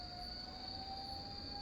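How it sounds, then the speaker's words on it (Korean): A steady, high-pitched fire alarm tone rings continuously at a distance over faint background noise, unbroken and even. "화재가 났다고 비상경보가 나고 사이렌이 울리는데"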